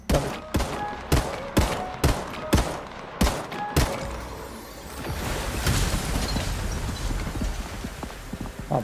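Sniper gunfire in a PvPvE shooter video game: a rapid series of about eight sharp, loud shots in quick rhythm, followed by several seconds of rumbling noisy ambience and a faint later report.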